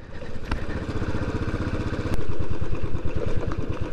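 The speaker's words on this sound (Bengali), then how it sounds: "পাহাড়ে নিজের বাইক নিয়ে" A motorcycle climbs an off-road hill track on Ajodhya hill in Purulia, its engine firing in a fast, steady, rhythmic chug up close that grows louder partway through.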